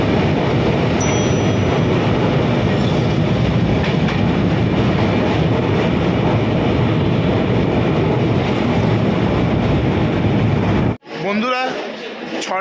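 A train crosses the Ganga bridge near Prayagraj, heard as a loud, continuous roar and rattle of wheels on the steel span from inside the coach, ending abruptly in a quieter stretch with voices and movement nearby.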